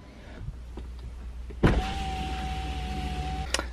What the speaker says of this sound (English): They recommend to lower all the windows